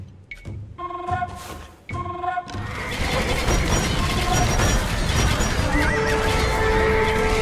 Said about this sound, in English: These horse archers will help you in your battles